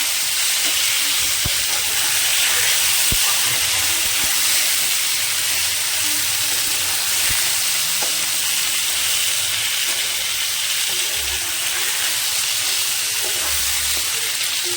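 Chopped tomatoes sizzle and fry in a pan with potatoes for a vegetarian mixed-vegetable curry, a steady close hiss running throughout with occasional soft stirring clicks and no talking.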